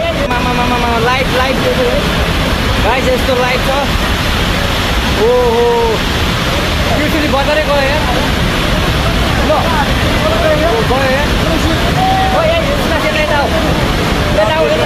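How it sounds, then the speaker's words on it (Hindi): Flash-flood water in Nepal roars loudly and steadily past the wreck of an iron bridge it has swept away, a dense unbroken rush with someone talking over it throughout. "उस पूरे पुल को अपने साथ पानी बहा ले गया"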